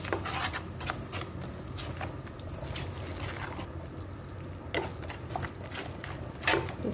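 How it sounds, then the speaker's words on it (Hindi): Butter and flour being stirred and roasted in a pan for white sauce, a soft continuous sizzle with scattered scraping and tapping of the spoon against the pan, fairly quiet and steady. "ये अलग से एक सॉस बना रही हूँ मैं बटर और मैदे को भून करके।"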